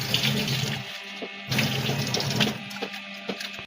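Peeled prawns rinsed under a running kitchen tap, a steady close rush of water splashing into a sink that briefly dips and swells as the prawns are moved about.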